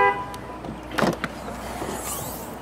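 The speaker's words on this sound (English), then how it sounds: "So let's unlock it. Let's see what kind of space we have in the trunk." A 2017 Ford Fiesta hatchback is unlocked and its trunk opened: a short electronic chirp, then a couple of sharp mechanical clunks and a latch click close by, followed by a brief rustle.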